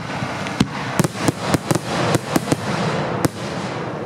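Dominator firework shells fire from 2.5-inch racks in a rapid, irregular run of about ten sharp loud pops and bursts over a steady background hiss, with no voices.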